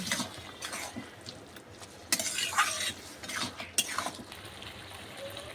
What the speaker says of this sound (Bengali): ভালো করে নাড়াচাড়া করব।